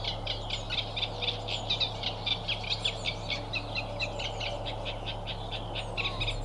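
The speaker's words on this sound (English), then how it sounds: "When faced with a wall of reeds and a calling Reed Warbler" A Reed Warbler calling from a bed of reeds, a rapid repeated chattering song of short high notes running steadily throughout, fairly close, over a low constant hum.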